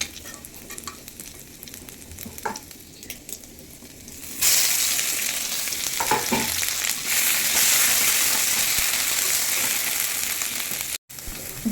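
Ghetkol, a taro-like plant, is added to a pan with already fried prawns: quieter sizzling and stirring at first, then a sudden loud, sustained hiss and crackle once it hits the hot oil.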